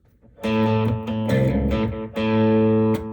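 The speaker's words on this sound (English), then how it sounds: "You really hear the full humbucker difference." A heavy, distorted baritone electric guitar on its full humbucker pickup rings out in thick sustained chords, low and dense, with brief gaps between strums and no voices.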